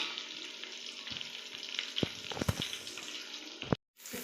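Onions fry in hot oil for chicken biryani, a steady close sizzle with a few sharp pops and stirring scrapes, cutting out briefly near the end before the sizzle returns.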